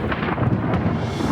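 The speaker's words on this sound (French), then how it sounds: "L'orage, enfin." Thunder in an animated cartoon about thirsty animals, heard as a steady, dense rumble that stays loud and even throughout the short stretch.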